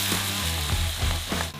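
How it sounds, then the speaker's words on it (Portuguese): Onions, bell pepper and garlic hit hot melted pork fat in a pan, and a steady, loud sizzle fills the whole moment with no speech. "Gordurinha já derretida e bem quente, vamos adicionar pimentão, alho e cebola"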